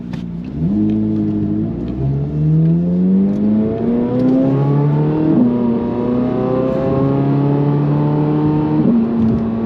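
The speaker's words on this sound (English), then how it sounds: "pull back both paddles and then rev it" A Corvette C8 Z06 engine revs hard while geared, pitch climbing through several rising sweeps with brief drops between, loud and close without any talk.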